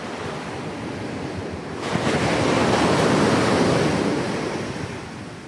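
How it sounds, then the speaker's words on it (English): Ocean surf rolls onto Bondi Beach, a broad roaring wash that swells partway through as a wave breaks and then slowly fades, with wind buffeting the microphone throughout. "It's quite healing and obviously listen to the waves"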